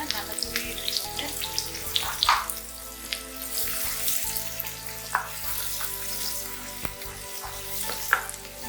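Grated onion sautés in oil with fennel seeds, giving a close, continuous sizzle with scattered stirring clatter and a faint background hum.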